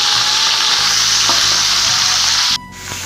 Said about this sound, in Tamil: இது நல்லா வதக்கலாங்க